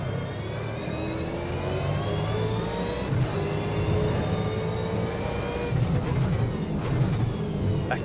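A Ford Falcon V8 Supercar racing at Pukekohe, heard from onboard as a steady loud engine drone with rising rev pitch through the gears and a brief shift dip, continuous and close.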